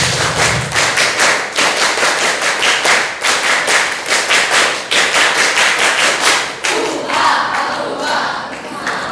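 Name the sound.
single, double and triple clapping patterns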